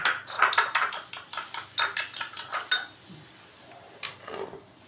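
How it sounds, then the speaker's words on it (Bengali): Yogurt whisked in a bowl, a quick steady run of clinking strokes for about three seconds, then a few softer scrapes. "ভালো করে দইটাকে ফেটিয়ে নেব"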